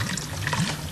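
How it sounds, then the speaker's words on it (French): Purple cabbage juice pours through a strainer in a continuous, close liquid splash and trickle, with no talk over it. "vous faites passer le jus violet à travers une passoire ou à travers un filtre"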